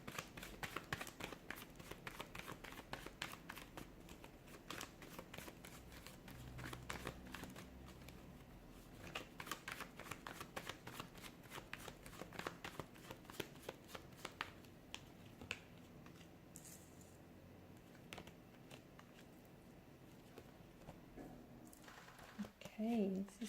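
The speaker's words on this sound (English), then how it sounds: "give the cards a shuffle and begin." Tarot cards are shuffled by hand, giving a long run of quick, soft riffling taps and slaps, close and faint, easing off toward the end.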